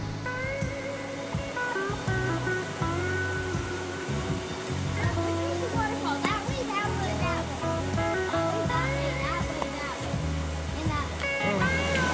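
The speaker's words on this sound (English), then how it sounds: "this is the Waimea Valley Waterfall." Waimea Valley waterfall on Oahu gives a steady rushing wash of falling water, with people talking over it and scattered bird-like chirps in the background.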